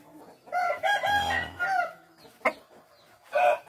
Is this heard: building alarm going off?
no